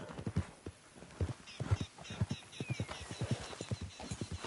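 Galloping horse hooves in a PS4 video game race pound in a fast, steady clip-clop rhythm, close and clear, with faint background sounds and no talk over them.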